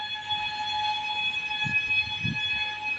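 A video game train horn holds a steady, chord-like blare for the whole stretch, with a few soft low thumps underneath.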